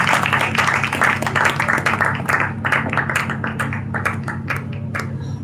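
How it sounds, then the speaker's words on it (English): A masterclass audience claps steadily and fairly loudly in a large room over a constant low hum, with dense overlapping hand claps and no speech. "If you're clapping, I need you to clap better. I need you to jam those hands."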